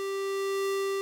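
A Polyend Tracker synthesizer holds a single steady tone, bright and buzzy with rich harmonics, sustained evenly at constant loudness.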